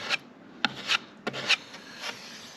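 Quick rasping scrapes as filler is worked into cracks in wooden cabinets, about four short strokes close to the microphone with no talking.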